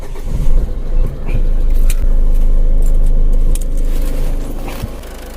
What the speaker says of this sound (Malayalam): എന്താണല്ലോ നമ്മുടെ വണ്ടി ഓണായി കേട്ടോ, സ്റ്റാർട്ടായി,